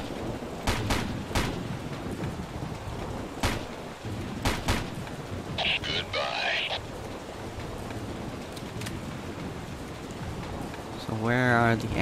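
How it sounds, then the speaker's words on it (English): In a Ghost Recon mission, a heavy machine gun fires in short sharp bursts, with separate cracks set against rumbling, rain-like battlefield noise; a voice crackles over a radio near the end. "that's a heavy machine gun"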